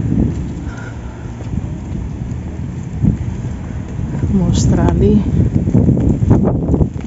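Gusty wind buffets the microphone outdoors in cold Gramado, Brazil, with an umbrella being tugged, a steady rushing roar that swells louder toward the end while a person talks over it.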